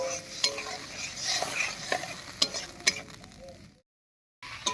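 Spice paste with water is stir-fried in a pan for a cauliflower dish, giving a soft sizzle under scraping spatula strokes and a few sharp clinks, then a brief silence before the sizzling resumes.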